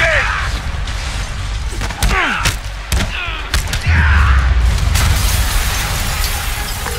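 Explosions boom in Marvel's Spider-Man Remastered, with several heavy blasts and sharp cracks in a dense, loud burst followed by a rumbling roar that stays strong over a busy background.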